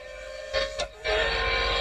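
Audi LMA design race car in Real Racing 3, its engine droning loud and steady with a brief rising whine midway, then a fuller, louder roar for the last second.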